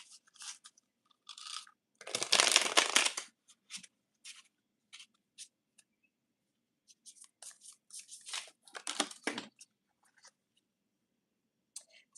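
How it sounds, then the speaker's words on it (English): A deck of tarot cards is shuffled, with soft papery riffles and taps scattered over several seconds and two denser, louder bursts of card rustling. "Let me shuffle this again."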